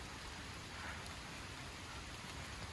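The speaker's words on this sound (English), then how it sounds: "it's raining and there is the sun" Rain falls steadily on a nature trail, a soft, even hiss of drops that stays faint and constant with no voices.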